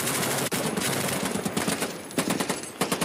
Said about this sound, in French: les forces spéciales russes ouvrent le feu sur les Zodiacs ukrainiens à la mitrailleuse lourde